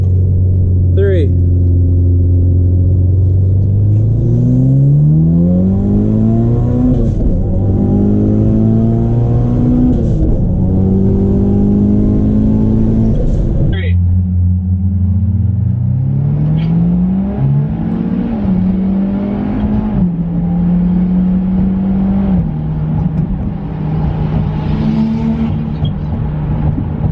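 Two Mitsubishi Lancer Evolutions, an Evo X and an Evo 8, launch side by side in a street race, engines loud and close as they rev hard and climb through repeated gear shifts with a steady rumble, while voices talk over them.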